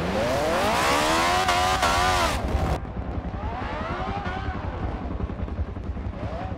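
A race car drifts at a Daytona racing event, its engine wailing loudly and continuously as the pitch swoops up and down, then drops into a rougher, lower roar as the car slides.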